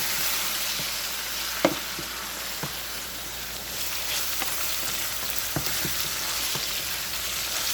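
Ground beef browning in a pan on a stovetop, a steady, bright sizzle with occasional soft taps and scrapes from stirring, close and continuous.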